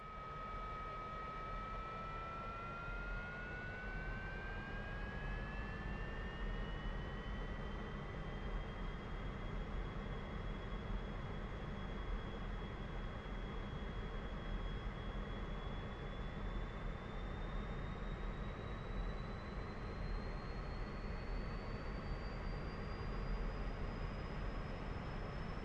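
A MiG-15bis jet engine in DCS World spools up with the wheel brakes held, a steady broadband roar under a rising whine that climbs gradually and then holds high, with no talking.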